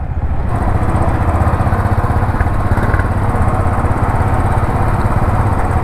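A Royal Enfield Continental GT 535 single-cylinder motorcycle runs close by, its loud, steady thumping engine pulsing at an even rapid rhythm throughout, with no voices over it.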